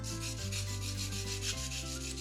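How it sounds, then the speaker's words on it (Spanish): Steady rubbing and scraping of wood against a coarse surface, continuous and close, with a low tonal hum running underneath and no talking. "Hay dos formas de generar la punta de estos lápices, que es con una lija"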